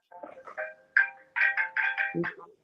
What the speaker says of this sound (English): Is that your phone, Lex?